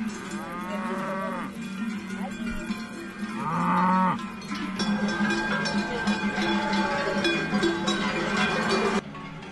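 Several cows moo loudly and at length at close range, their long lowing calls overlapping, while cowbells clank steadily underneath.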